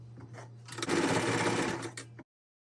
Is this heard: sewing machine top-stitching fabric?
yes